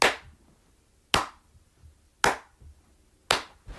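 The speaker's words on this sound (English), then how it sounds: "The audience would start clapping like this." A slow handclap from a concert audience: four sharp, loud claps spaced about a second apart in an even rhythm, with near silence between them.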